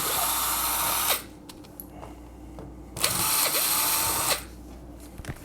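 A cordless power drill backing screws out of the rear panel of an Allavino wine fridge, two loud whirring bursts of about a second each, separated by quiet handling clicks.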